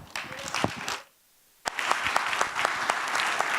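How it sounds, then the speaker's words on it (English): Audience applause at a community pitch event: a burst of many hands clapping, a brief silent pause, then a second round starting sharply and continuing steadily at moderate loudness. "Thanks for 2 rounds of applause"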